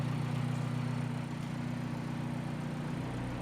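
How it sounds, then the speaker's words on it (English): A BMW M Performance inline-six turbo engine idles with a steady, low, even drone that holds at a constant level for the whole stretch, with no talking over it. "That big BMW M Performance engine up there,"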